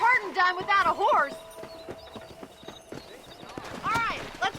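Hooves clip-clop briskly in the Red Dead Redemption video game as a horse whinnies loudly near the start and again near the end, with rising and falling neighs over steady ambient sound.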